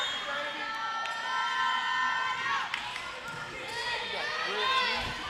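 A crowd in a gym at a college volleyball match between Montevallo and Union keeps up an excited roar of shouts and squeaky, high-pitched voices, swelling near the end, with a commentator speaking over it.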